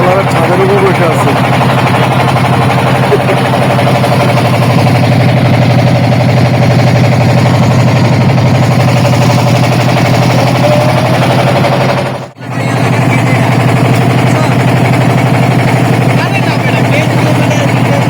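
A trawler motoring along a river toward Chandanpura drones with a loud, steady engine thrum that continues unbroken for the whole stretch, with a brief dip near the end and people talking over it from the boat's roof.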